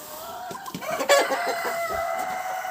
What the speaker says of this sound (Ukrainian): І тут якісь курочки сидять одна на одній.